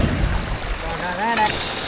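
Strong wind buffets the microphone outdoors beside a cooking fire where fish is being fried, a constant low rumbling roar with a faint higher whistle near the end.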